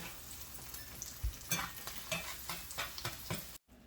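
Food being scrambled in a pan, with a steady sizzle and a run of scraping stir strokes over it, close and fairly loud, cutting out briefly near the end.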